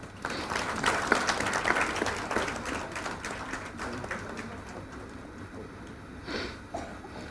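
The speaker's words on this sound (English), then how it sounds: "I would request everyone to accept the vote of thanks with a big round of applause." Applause at the close of a valedictory session for a workshop on disaster risk financing and insurance: a room of people clapping, strongest at first and then thinning gradually to scattered, softer claps.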